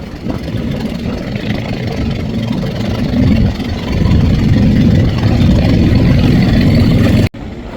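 Passenger launch MV Tipu on the river, its engine a loud, steady low rumble that drones continuously close by before cutting off abruptly near the end.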